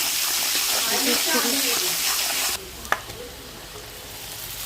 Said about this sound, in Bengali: এটা একটু ভেজে তুলে নেব